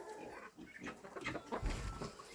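Farm poultry, including a turkey, cluck and call close by in a farmyard, a few short bursts of throaty clucking over quiet outdoor background.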